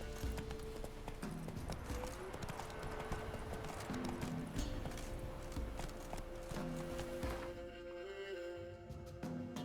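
Horse hooves clip-clopping steadily at a gallop in The Witcher 3, with in-game ambience and occasional tonal game music under the hoofbeats, continuous for the whole stretch.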